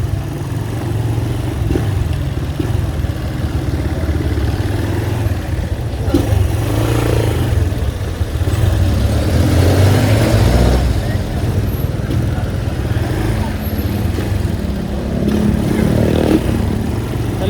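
A Honda XL 200 motorcycle engine runs steadily close by, idling with a low rumble and swelling in a few revs, loud and continuous throughout.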